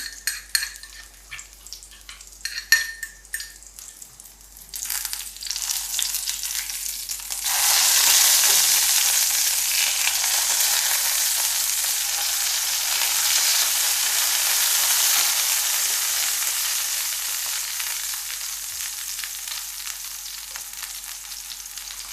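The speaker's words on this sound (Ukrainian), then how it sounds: "Перекладаємо в соус. все гарненько перемішуємо" Fried zucchini being stirred into a sauce, soft scraping and clinks at first, then a broad steady hiss and crackle that swells after a few seconds and carries on at a constant level, close with no talking.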